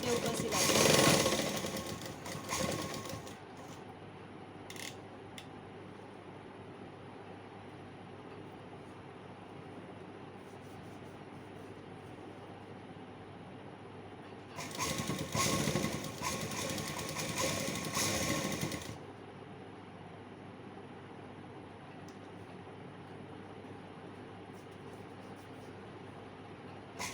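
A sewing machine stitches piping on a night suit in two loud, close bursts of rapid mechanical chatter, one at the start and a longer one midway, with quiet room tone between the runs.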